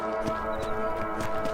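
Horse hooves in the Red Dead Redemption video game, a quick rhythmic clip-clop of a horse on the move, set over a steady tonal background hum.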